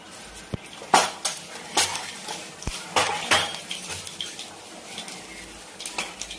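Mustard seeds and cumin hit hot oil in a pan, giving scattered sharp pops and crackles alongside metallic clinks of a spoon against the vessel.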